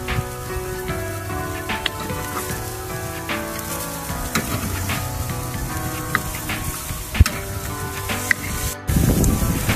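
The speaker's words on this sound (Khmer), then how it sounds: "We are going to grill this outside on a charcoal grill" Pork sizzles on an outdoor charcoal grill, a dense continuous crackle and hiss with scattered sharp pops from fat dripping onto the coals, ending in a brief louder rustle.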